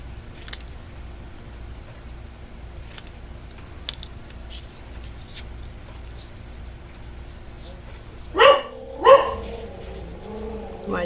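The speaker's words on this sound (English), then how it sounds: "My dogs are getting excited because it's time to eat" Dogs waiting for feeding time bark twice near the end, two sharp loud barks close together after a long stretch of quiet keyboard tapping and light clicks.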